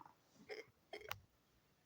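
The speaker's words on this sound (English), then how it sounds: "Do you have more hiccups?" Two quick hiccups sound close by, short and sharp, spaced about half a second apart in a quiet room.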